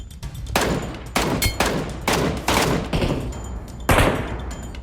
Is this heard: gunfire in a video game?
yes